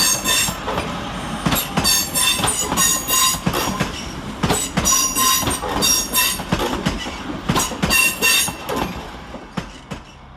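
A Northern Class 323 electric unit running into Manchester Piccadilly station, loud and close, with a steady rush of wheels and repeated sharp clicks and squeals from the rails and brakes throughout.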